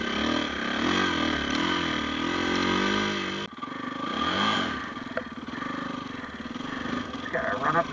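Snow bike engine droning steadily while riding through snow near Wawa, Ontario, with a brief drop partway then rising revs, and people talking over the motor throughout.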